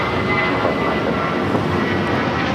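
An Atlas Air airliner lands at LAX with a loud, broad, steady engine roar that stays close and even throughout.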